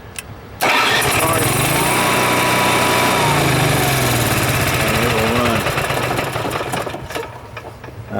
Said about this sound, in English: Cummins generator. You'll put it to prime, light will come on.